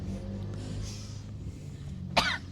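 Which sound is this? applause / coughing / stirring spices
coughing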